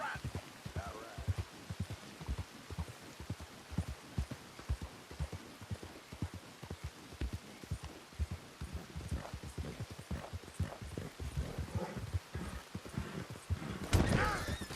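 Quick, steady hoofbeats from a horse in Red Dead Redemption 2 patter under rain-like ambience, fairly quiet, ending in a louder burst of commotion.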